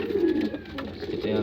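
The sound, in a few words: pigeons cooing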